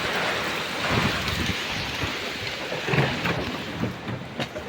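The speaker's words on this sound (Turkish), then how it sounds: "Felaket yağmur başladı be." Heavy rain pours steadily in Ankara with a dense hiss, and low rumbles of thunder roll through in the background, with no voices.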